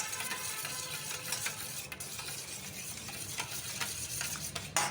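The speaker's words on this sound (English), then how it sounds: "Stir this very well." Chicken and vegetable spring roll filling with a little sugar is stirred in a hot pan, a soft steady sizzle broken by repeated scraping strokes of a spoon.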